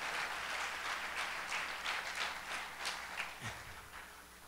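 A church congregation breaks into applause during a Portuguese sermon, a dense wash of many hands clapping that fills the room, steady and moderately distant, then slowly thinning.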